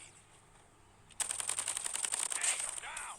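Call of Duty gunfire erupts after a quiet second: a dense, rapid automatic burst of sharp cracks that runs nearly two seconds, loud and close, trailing into scattered shots with faint game ambience.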